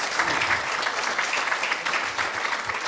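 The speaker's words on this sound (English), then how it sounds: "So let's give Azael a hand," A congregation gives Azael a round of applause during a church service, a steady dense wash of many hands clapping, moderately loud and unbroken, with no talk on top.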